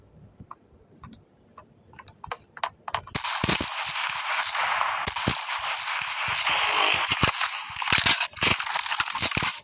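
In a shooting video game, a few sparse clicks give way to a dense stretch of rapid gunfire bursts, loud and continuous with brief breaks, from about a third of the way in.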